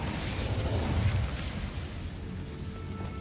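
A fiery Incendio spell effect in a video game: a loud, broadband whooshing roar with a low rumbling burst that swells in the first second and then settles into a sustained crackling hiss.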